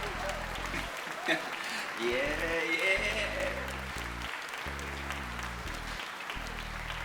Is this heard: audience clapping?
yes